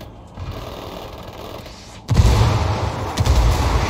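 Indirect artillery fire called in from rebels in a video game, heard as a low distant rumble that suddenly swells into a heavy, sustained booming roar, with a further thump near the end.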